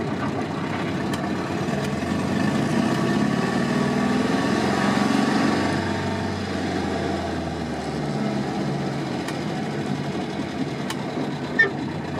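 A 1963 Volvo PV 544 engine hums steadily as the car is driven in traffic, a continuous, moderately loud drone with a slight swell midway and one sharp knock near the end, with no talking.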